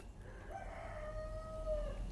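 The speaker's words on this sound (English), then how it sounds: "Those roosters start going off" A rooster crows once, a faint, drawn-out cock-a-doodle-doo rising and holding before trailing off, heard at a distance over a low ambient background.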